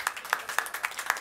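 An audience in a hall claps on request, a short burst of about five distinct, evenly paced hand claps at moderate volume with no voices.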